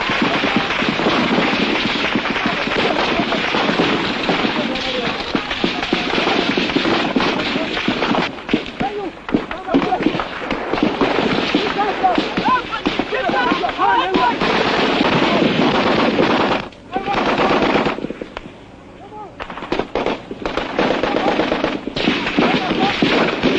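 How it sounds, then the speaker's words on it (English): Troops in the Biafran war firing blindly at enemy positions, a dense continuous crackle of distant rifle and machine-gun fire with heavy background noise, briefly dropping out near the end. "the Biafran troops fire blindly at enemy positions they can scarcely see"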